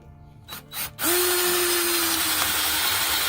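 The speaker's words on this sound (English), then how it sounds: "this is what's called a speed bit" A power drill fitted with a speed bit spins up loudly and bores through wood, a steady sustained whine after a few brief clicks and bumps of handling.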